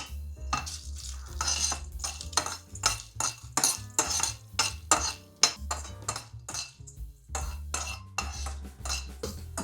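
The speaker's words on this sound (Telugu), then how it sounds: "టూ మినిట్స్ వేయించుకోవాలండి." Whole spices such as cinnamon, cloves, peppercorns, mace and bay leaves being stirred and dry-roasted in a pan, with repeated metallic scraping and clinking of a spoon against the pan in a close, busy rhythm.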